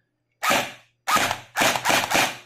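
A JinMing Gen8 M4A1 airsoft electric gun, just fitted with an upgraded nozzle and a replaced tappet plate, test fires its gearbox. Five loud, close bursts ring out: two separate shots, then three in quick succession.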